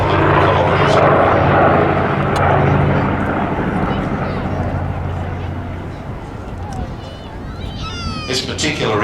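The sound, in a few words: Douglas DC-6 propeller airliner flying at air show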